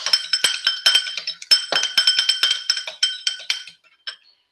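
An egg is stirred in a glass bowl, giving a quick run of bright clinks and taps against the glass that slows and fades toward the end, close by with no talk.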